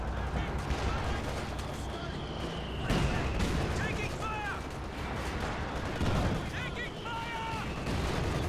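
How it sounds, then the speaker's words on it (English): Panzer IV barrage artillery fire in Company of Heroes 2, a real-time strategy battle, sounding as a busy stream of gunfire and blasts with louder shell hits near the 3 and 6 second marks, layered with chirpy unit voices under a commentator's steady talk. "Panzer IV Barrage will come on in, which will wipe out that mortar team."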